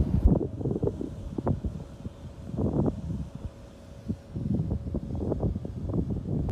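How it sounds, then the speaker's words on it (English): Wind gusts roar and buffet the microphone outdoors beside flooded water slides, a steady low rumble with irregular surges, loud and close throughout. "It's just windy, so the wind is just pushing it"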